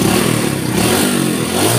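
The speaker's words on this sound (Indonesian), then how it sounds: "Tinggal kita geber coba nih." A Honda Astrea Grand motorcycle engine, fitted with a Shogun CDI, revs hard and loud right up close, a dense continuous mechanical roar throughout the short burst.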